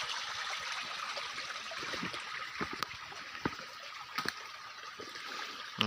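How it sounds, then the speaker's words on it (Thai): Natural spring water trickles near a waterfall in a forest, a quiet, steady hiss of running water with occasional small splashes and drips, heard alone with no speech. "น้ำซับธรรมชาตินะครับ"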